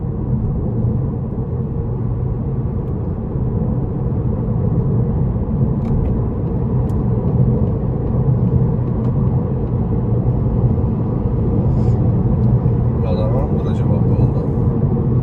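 Steady low road and engine rumble from inside an Opel Astra L cruising on a highway, continuous and even, with a faint voice now and then.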